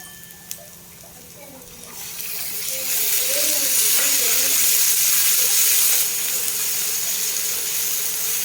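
Ginger garlic paste sizzling over onions in a pan for pepper chicken masala, a steady frying hiss that swells louder partway through and holds, with a little clatter near the start.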